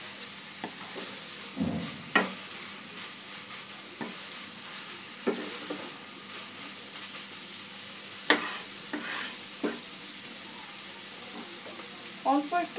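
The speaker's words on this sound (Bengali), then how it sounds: "একটু মিশিয়ে নেব।" Katla fish curry with winter vegetables being stirred in a hot pan, heard as a constant close sizzle and frying hiss broken by scraping spoon strokes and occasional clinks, with no talking.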